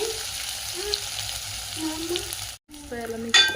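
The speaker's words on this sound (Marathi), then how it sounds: "तर आता तेल मस्त गरम झालं आहे, तर मस्त आपण याला फोडणी देऊ आता" Spices sizzling as they hit hot oil for dahi kadhi, a steady close frying crackle with brief pauses and some stirring noise, the sizzle swelling at the end.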